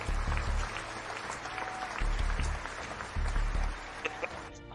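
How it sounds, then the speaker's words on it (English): A soundboard clapping effect: a burst of crowd applause, steady clapping from many hands that swells and fades slightly, ending abruptly. "if it's a clap, that's what you hear. So clapping."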